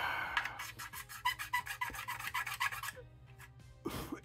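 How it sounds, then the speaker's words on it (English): A sanding stick rubs a sprue gate off a plastic Monogram Typhoon model kit part, a quick run of about ten short rhythmic rasping strokes, close and quiet, then a pause and one last stroke. "So I'm going to come in here with this sanding stick and get that out."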